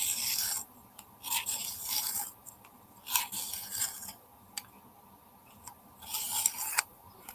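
A sharpener rasps in short scraping strokes, irregular bursts separated by brief pauses, close and fairly quiet.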